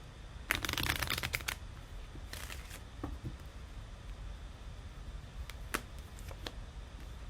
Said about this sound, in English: I'm going to pull 3 cards on these.